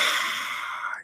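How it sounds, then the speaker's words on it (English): A single Ujjayi ocean breath is exhaled through a contracted glottis, making a soft, breathy, hissing rush that lasts about a second and fades out at the end, close and alone. "epiglottis and it kind of sounds like this, also called the ocean breath."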